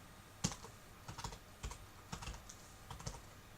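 Keystrokes on a computer keyboard while setting up campaign landing pages, a few short bursts of clicky taps spaced across a few seconds, close and fairly quiet with no talking.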